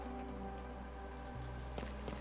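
Steady rain falls in the video game Chained Echoes, a faint continuous patter over a low background hum, with a few soft taps near the end.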